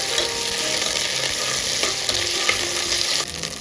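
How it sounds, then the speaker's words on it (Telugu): Ginger garlic paste fries in hot oil for a coconut milk biryani, a loud, steady close-up sizzle with faint stirring scrapes running through it and no voices. "పచ్చివాసన పోయేంత వరకు వేయించుకోవాలి."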